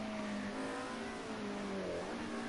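The Sonax Mercedes 190E Group A race car's engine drones steadily from onboard at Bannochbrae, a loud continuous roar whose pitch dips and rises briefly as the car runs through a corner.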